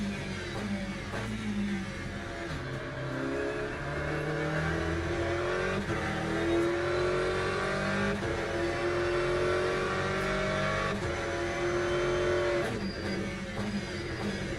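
Race car engine in the sim racing game Le Mans Ultimate, a loud continuous roar that climbs through revs, drops at gear changes and under braking, then pulls up again, with no talking.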